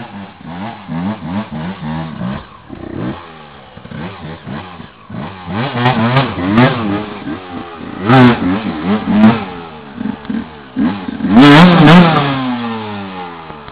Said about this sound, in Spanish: siéntate en la moto